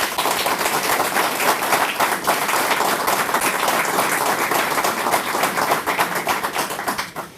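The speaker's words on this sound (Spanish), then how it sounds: "Quiero que recibamos con un fuerte aplauso a nuestros investigadores" A conference audience at a local-history lecture applauds its researchers with dense, steady clapping that holds strong for about seven seconds before easing off at the end.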